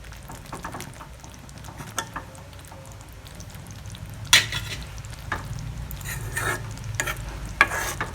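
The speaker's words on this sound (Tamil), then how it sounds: "லாஸ்ட்டாக கொஞ்சம் நெய் ஊற்றுவோம்." Ghee is poured and stirred into sizzling pirandai kuzhambu, a soft steady sizzle with scattered scraping stir sounds and a few sharper clinks, close and fairly quiet with no talk.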